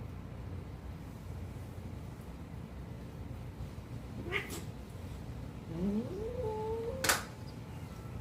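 Big old tomcat giving a short yowl midway, then a rising, wavering caterwaul and a sharp meow near the end, faint and fairly distant over low background hum.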